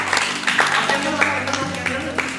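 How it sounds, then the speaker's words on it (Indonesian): Applause at Gerry's birthday party, with energetic clapping in repeated bursts that runs steadily beneath excited talking and cheering voices nearby. "sekali lagi tepuk tangan semuanya"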